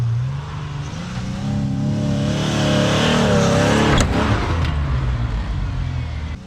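A Ford Explorer on a rough quarry track revs hard and speeds up, its loud close engine note rising and swelling, then a sharp jolt and a continued rumble.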